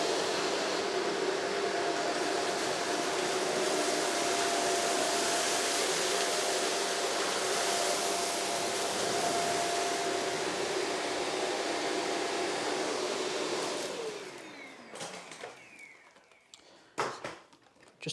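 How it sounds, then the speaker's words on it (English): Shark NV602UKT upright vacuum cleaner running on maximum suction over a hard floor, a loud steady broadband whoosh with a faint motor whine, holding for about fourteen seconds before cutting off, followed by a few clatters and knocks. "So we're using the cleaner on hard floor first."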